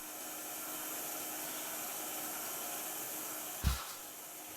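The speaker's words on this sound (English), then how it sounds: "Now I'm going to stop the mixer and take off the beater" A stand mixer runs while beating chocolate brownie batter, giving a steady, soft motor whir with one brief low thump near the end.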